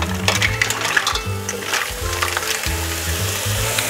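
Mussels tipped in one go into a hot pot of broth with salt and bay leaves, giving a loud, busy clatter of shells over a steady sizzling bubble, with low hum underneath throughout.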